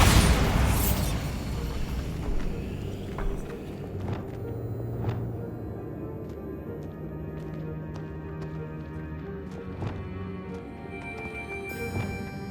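A Bombarda blasting spell explodes in Hogwarts Legacy: one loud, deep boom at the start that fades into a low rumble, with soft game music and ambience continuing behind it.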